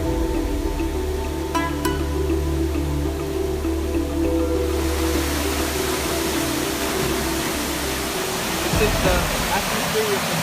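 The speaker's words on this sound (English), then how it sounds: "As you see, it's a big waterfall" Big waterfall at Kulen in Cambodia, a steady loud rush of falling water that fills the scene, with the sound shifting partway through as the position changes and a voice speaking over it.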